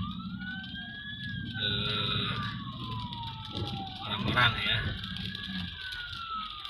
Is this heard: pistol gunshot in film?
no